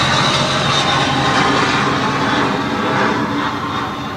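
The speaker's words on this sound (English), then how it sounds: "here comes the plane" A jet airplane passing overhead along a flight path, a loud, broad, steady roar filling the whole stretch, close and sustained with a slight fade at the end, no talking.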